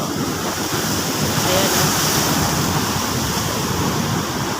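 Continuous crashing surf along a shoreline after a typhoon, large waves, loud and broad, with wind buffeting the microphone throughout.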